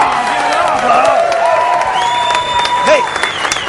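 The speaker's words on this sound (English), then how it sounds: "Listen to this crowd." A studio audience claps and cheers loudly, with whoops and whistles rising over the dense applause, and a host's voice joins briefly.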